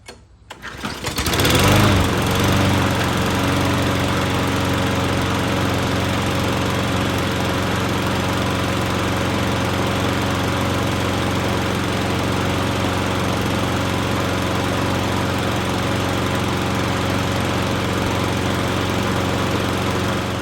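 A 2008 Craftsman lawn mower engine starts with a short pull and then runs steadily at a loud, constant drone close by, with no talk.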